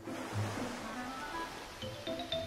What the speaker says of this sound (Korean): 이 소리 폭포 소리야